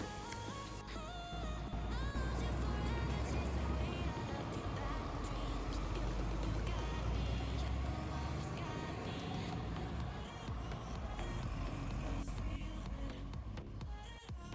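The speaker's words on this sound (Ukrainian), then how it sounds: "будемо слухати, як працює сам двигун" A Renault Mégane 2 engine idles steadily with the hood open outdoors, a continuous low mechanical hum and faint ticking heard up close for the whole stretch.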